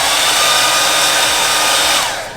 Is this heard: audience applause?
no